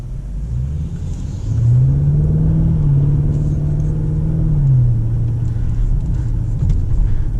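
Lamborghini Urus SUV engine heard from inside while driving, a deep steady rumble that swells with a smooth rise and fall in pitch as it accelerates and settles, no talking.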